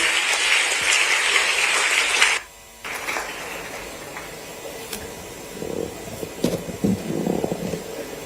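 A burst of loud audience applause at a Madhya Pradesh political gathering cuts off abruptly after a couple of seconds, leaving quieter hall noise with scattered thumps and shuffles.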